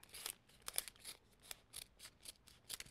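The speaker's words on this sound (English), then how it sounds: "fold this in half and just cut up and over and make myself a heart" Scissors snip through folded paper to cut out a heart sticker, producing a close, quiet series of about ten crisp, regular cuts alone in a still room.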